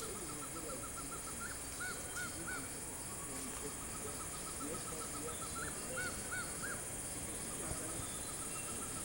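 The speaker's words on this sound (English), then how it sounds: "I don't know if you can hear the birds." Distant birds call in short repeated notes over a steady chorus of insects and bush ambience, with no voices.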